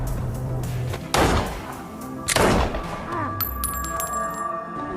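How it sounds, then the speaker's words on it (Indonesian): Gunfire in the war film Kruty 1918, two loud sharp shots about a second apart with echoing tails, followed by ringing tones, under a narrator's voice. "Hingga akhirnya baku tembak antara Olekska dengan pihak Soviet Rusia pun tidak terhindarkan."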